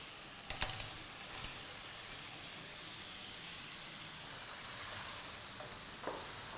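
Pieces of crab fry in a pan for crab malaicurry, giving a quiet, steady sizzle and hiss with a few faint clicks and taps near the start.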